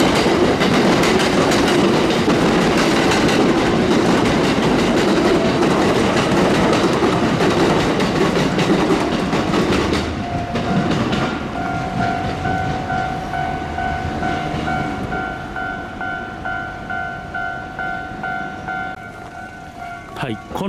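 A Kintetsu Nara Line train passes a level crossing beside Yamato-Saidaiji station with a loud, close rumble and wheel clatter. As the train fades, the crossing's alarm bell rings in a steady repeating pattern.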